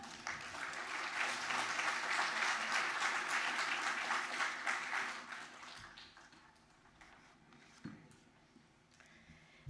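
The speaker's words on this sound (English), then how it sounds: "Please give her a round of applause" A room claps steadily at a donor-honoring Wall of Heroes dedication ceremony, the applause full for several seconds before thinning into scattered claps and quiet.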